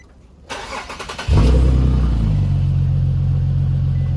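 A car engine is started during a home oil change: a brief click and starter cranking give way to the engine catching with a loud surge, then settling into a steady idle close by.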